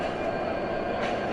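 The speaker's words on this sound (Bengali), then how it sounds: "আমাদের লোকোমোটিভটি ছুটে চলেছে ট্রেনের সঙ্গে সংযুক্ত হওয়ার জন্য" Broad-gauge BEP 32 locomotive no. 6630 in Bangladesh runs in a steady, loud, dense rumble heard close at hand, with no talk over it.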